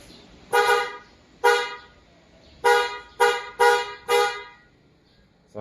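A replacement horn on a Suzuki Raider motorcycle is test-honked after a DIY install: seven short, loud blasts in an uneven rhythm, the third through sixth coming in quick succession.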